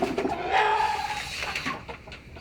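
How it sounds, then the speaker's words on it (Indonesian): Bangkok chickens in a backyard coop with two roosters, clucking and calling close by in a busy, continuous stretch with no talking. "saat ini terlihat beberapa ayam saya, ayam Bangkok"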